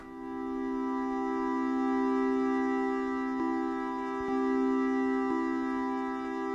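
A sustained synthesizer tone from an Arturia MiniFreak with an Akai Force, rich steady harmonics, echoing delay and a reverberant tail, playing alone without any voices.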